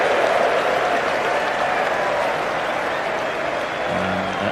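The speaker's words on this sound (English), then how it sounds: "Andrew Flintoff applauded by several more" Cricket crowd at an England versus Australia Ashes Test applauding a boundary struck by Andrew Flintoff, steady dense clapping from a large crowd filling the whole stretch with no break.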